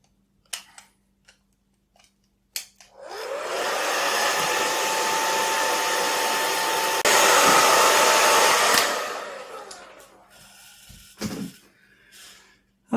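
A Conair hair dryer set on hot whirs loudly with a steady blowing roar for about six seconds after a few clicks, then winds down, leaving small handling sounds.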